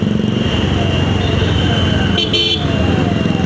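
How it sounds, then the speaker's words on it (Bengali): A brief vehicle horn toots in city traffic, heard from a moving motorcycle over its steady engine drone and road rumble. "কিছু কিছু ড্রাইভার আছে এত হর্ন মারতে থাকে"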